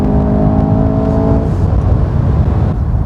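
A Mercedes-AMG S63 with a 4.0 engine launches from a race start with a loud, close, rising engine roar that blurs into a rushing drone as speed builds.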